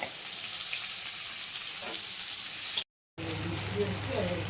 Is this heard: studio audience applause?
no